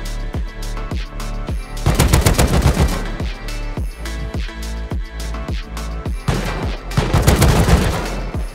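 An automatic turret in the video game Rust fires rapid, loud bursts of gunfire, with dense volleys repeating in quick rhythmic strings and several heavier flurries, and no talk over it.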